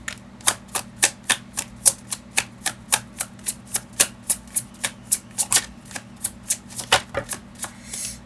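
Tarot cards being shuffled and drawn, a regular series of crisp riffling snaps about three per second, close and clear with a faint steady hum underneath and no talking.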